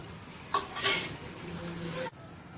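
Fried potatoes tipped into hot oil with garam masala for aloo dum biryani: a clattering drop of food into the pan, then a scraping stir over a soft sizzle that cuts off abruptly.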